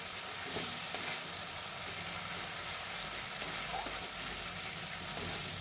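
Boiled potato stir-fried with spices in oil produces a steady, fairly quiet sizzle throughout, broken by a few faint scraping clicks of stirring and no talk.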